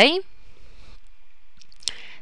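A single sharp mouse click on an OK button during Windows IIS application pool setup, heard near the end after a short burst of someone speaking.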